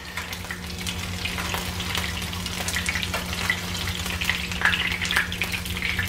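Shrimp fritters fry in a pan with a steady crackling sizzle, with scattered bright pops that grow busier toward the end over a low constant hum and no speech.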